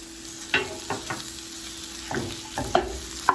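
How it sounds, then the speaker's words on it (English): Ground beef and sausage sauté in a pan for a single-serving lasagna, with a low sizzle under a handful of spatula scrapes and taps, close and moderately quiet. "we're going to saute this until it gets evenly browned"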